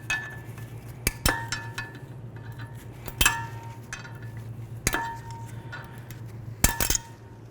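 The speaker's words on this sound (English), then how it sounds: "we're going to use some cutters and we're going to take off these two little tabs right there" Cutters snip the small retaining tabs that hold the rear brake rotor on a 2015-20 GMC Yukon, giving a handful of sharp metallic clicks and clinks spaced irregularly over a low steady hum.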